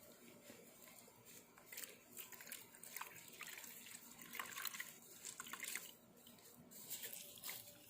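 A washcloth is rinsed in water, with faint sloshing, trickling and dripping that comes and goes in soft waves.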